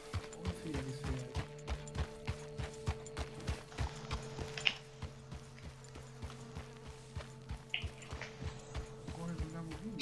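Rhythmic clopping horse hoofbeats at a steady trot in Red Dead Redemption 2 on PS4, with a constant low hum underneath and brief bursts of other noises partway through.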